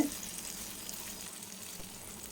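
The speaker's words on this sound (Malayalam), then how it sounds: "ചിക്കൻ നന്നായിട്ട് തിരിച്ചു മറിച്ചൊക്കെ ഇട്ട് നല്ലപോലെ ഫ്രൈ ചെയ്ത് കുക്ക് ചെയ്തെടുക്കണം" Chicken pieces for chicken and vegetable macaroni frying in a pan, giving a steady, fairly quiet hissing sizzle that runs evenly throughout.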